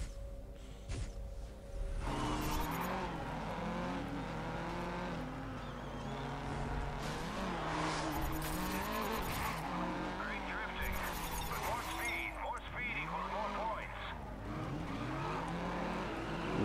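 Race car in the GRID video game drifting, with sustained tire squeal and engine whine sweeping up and down, a steady loud mix with people talking over it.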